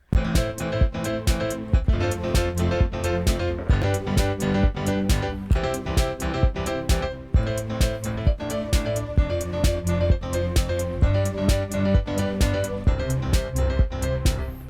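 A sustained Omnisphere synth pad blends with a steady drum track, punchy hits recurring in a regular rhythm beneath layered chords, with no talking.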